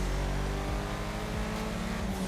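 A Sentinel XS4, the game's take on a BMW E39 M5, revs its engine in GTA with a turbo-like character; the pitch climbs and dips through several throttle blips, loud and steady, with no talk.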